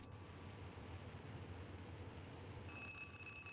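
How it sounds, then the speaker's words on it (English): A telephone starts ringing in the video game Zero Parades: For Dead Spies. The bright electronic ring cuts in near the end over a steady hiss of background noise. "As you turn away, a phone begins to ring."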